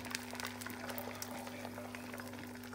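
Soft, steady crackling and sizzling of four eggs frying slowly with onions in a pan over reduced heat, heard close with a low hum underneath.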